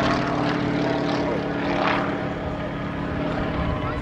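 A Sukhoi 26MX aerobatic plane with its 400 hp M14 PF radial engine and propeller drones loudly and steadily overhead at an air show, a dense continuous roar with a slight pitch sweep.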